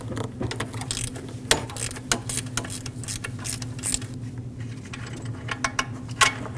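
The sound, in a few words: ratchet removing alternator bolt on Dodge Ram 1500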